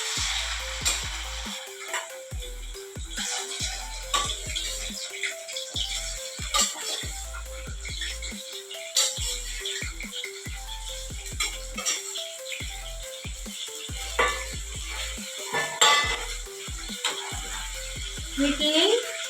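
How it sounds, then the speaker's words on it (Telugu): Raw prawns sizzle and crackle in hot oil in a pan, a dense continuous frying hiss with sharp spits and pops throughout, fairly close, while a person talks over it at intervals. "ఇదిగోండి, ఆయిల్ హీట్ అయింది. ఇప్పుడు నేను ఈ రొయ్యల్ని వేసేస్తున్నాను."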